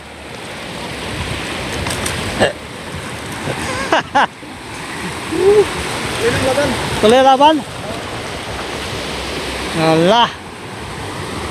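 Strong sea waves surge and wash in a steady broad roar around a fishing boat at sea, close and loud throughout, with people shouting and talking over it in bursts.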